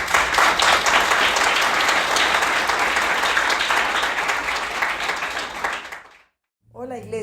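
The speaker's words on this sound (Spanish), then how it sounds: "Y bueno, denle un aplauso al Señor." Church congregation applause after a sermon, a loud, full round of clapping that holds steady for several seconds, breaks off into a brief silence, then gives way to a voice speaking.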